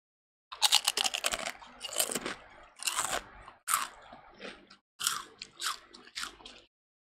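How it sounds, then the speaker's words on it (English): Someone eats a crunchy snack up close, producing a series of sharp, crackling crunches in uneven bursts separated by brief pauses, with no talking. "It's a double crunch."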